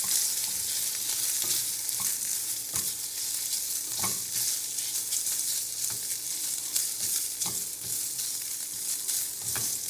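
Eggs sizzle steadily in a hot pan while cooking for shrimp fried rice. Repeated scraping strokes of stirring punctuate the frying at a loose, regular rhythm, close by, with no talk.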